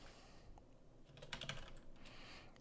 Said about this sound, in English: I'm just typing up right now